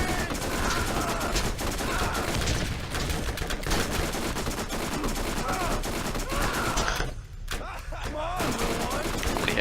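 Continuous submachine-gun fire rattles in the video game Borderlands 1, dense rapid bursts that carry on almost without a break, briefly dropping out near the end before resuming, with game effects mixed in.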